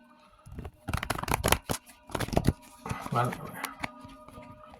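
Tarot cards being shuffled close by in quick riffling bursts, crisp flutters separated by short pauses, with a voice speaking briefly between them.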